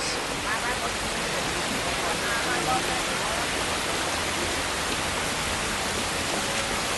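Heavy rain falling in a steady, dense, unbroken wash that stays loud and close for the whole stretch.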